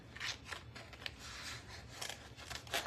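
Scissors snip around a printed word on paper, giving several quiet, close crisp cuts and rustles in a short burst.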